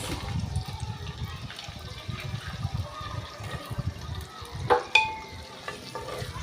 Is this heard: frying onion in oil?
yes